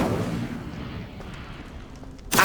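An Incendio fire spell cast in Hogwarts Legacy, with a heavy rushing whoosh that fades over two seconds, then a sudden loud burst at the very end.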